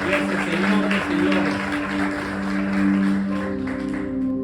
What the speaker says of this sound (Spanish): Denle un aplauso más fuerte a ese Rey de reyes